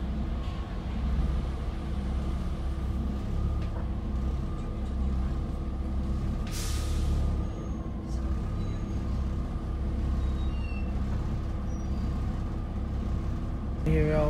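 Alexander ALX400-bodied Volvo B7TL double-decker bus driving toward a bus station, its engine a steady loud drone with a brief air-brake hiss partway through.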